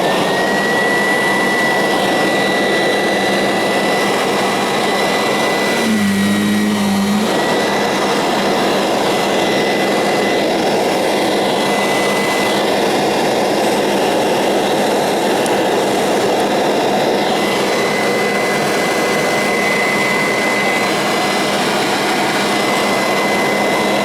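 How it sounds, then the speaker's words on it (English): A Kirby Centria 2 vacuum cleaner fitted with a retrofitted metal fan runs loud and continuous, a roaring motor with a steady high whine. The pitch shifts briefly once midway. "Centria 2 with the retro-fitted metal fan."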